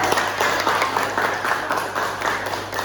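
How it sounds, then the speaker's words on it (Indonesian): A classroom of students applauding for a classmate, a brief burst of close, fairly loud clapping with a steady rhythm that lasts the whole moment. "Kasih aplaus dulu dong."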